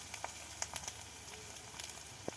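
Chopped onion and green chili fry in oil for an okra fry, giving a steady, faint sizzle with small crackles and pops scattered throughout, close by and with no voices.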